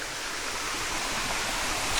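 A waterfall in the Philippines roars in a continuous, loud, broadband rush of falling water, steady and close, with no voices over it.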